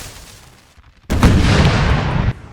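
Cannon fire in Napoleon Total War erupts as one loud, close blast after a quieter lull, followed by a rumbling roar that holds for about a second before cutting back to low background noise.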